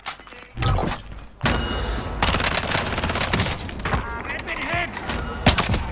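Heavy automatic gunfire in Call of Duty Warzone, dense bursts of rifle and machine-gun fire with loud broadband blasts, several near thumps, and continuous shooting through most of the stretch; game voice chatter sits underneath.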